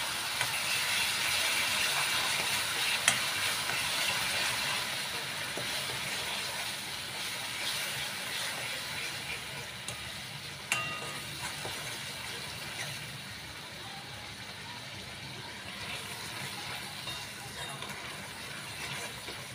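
Tomato and onion puree sizzling in a pan after ginger-garlic paste, for a spicy drumstick curry; a steady broad hiss of frying runs throughout, fairly even in loudness, with no voices.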